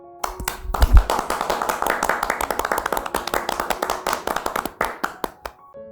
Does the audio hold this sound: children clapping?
yes